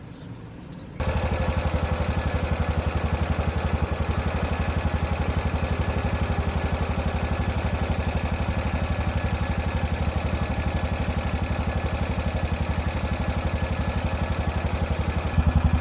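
Steady, close drone of an engine-driven pump running at a constant pace after starting abruptly, its even mechanical rumble holding unchanged with no talk over it.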